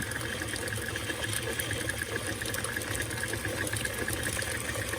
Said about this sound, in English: Now it does start splattering a little bit more, so I guess that's the buttermilk coming out of it.